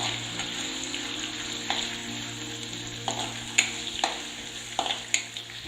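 Green chilies and curry leaves fry in coconut oil in a clay pot, giving a steady close sizzle with occasional sharp crackles and pops as they are stirred.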